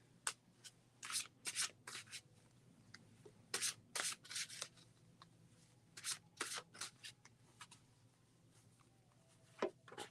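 Quiet, close-up riffles and soft slaps of tarot cards being shuffled in irregular bursts, with brief pauses between handfuls.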